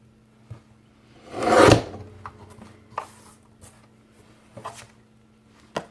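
Oracle cards having their top border trimmed off, a single loud rasping cut through the card stock lasting about a second, followed by a few faint scattered clicks and handling taps.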